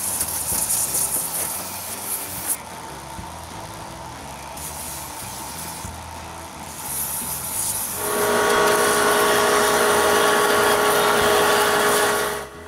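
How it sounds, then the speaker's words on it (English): A pneumatic drum sander works on wooden parts of a wall-mounted plaque support, first a steady hissing grind, then a louder, higher whine for the final few seconds with no talking. "The rest is done with a pneumatic drum."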